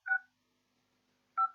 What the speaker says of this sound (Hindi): मैं इस पर डायल कर रहा हूँ, स्पीकर मैंने ऑन कर दिया।